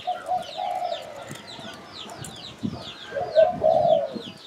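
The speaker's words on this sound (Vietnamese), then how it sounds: "mình móc lên cây là nó gáy lên là nó gù thôi nha anh em" A spotted dove from Phu Yen coos in repeated low, rounded phrases at close range, with faint chirps of other birds in the background and no talk over it.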